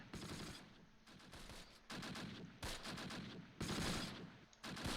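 Gunfire in the WWII game Close Combat, with repeated bursts of rifle and machine-gun shots in rapid clusters, sharp and fairly quiet, with no talking.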